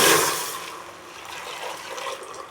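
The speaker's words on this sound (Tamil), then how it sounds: "பாருங்க, நம்ம காய்ச்சின பாலை இதில் ஊற்றிக்கலாம்." Boiled milk poured into ground carrot for carrot kheer, a liquid pour with a gurgling, splashing start that settles into a softer steady trickle, close and alone.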